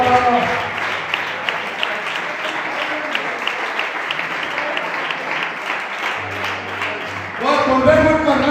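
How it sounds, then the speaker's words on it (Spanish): Sustained applause from a church congregation, steady and dense for about seven seconds before voices rise over the tail end. "dale un aplauso al Señor"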